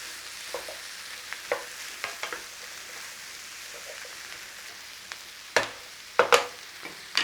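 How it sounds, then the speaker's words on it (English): Chestnut stuffing with dried thyme and parsley is stirred in a frying pan, giving a soft steady sizzle with scattered spoon scrapes that grow sharper and louder toward the end. "Quick stir."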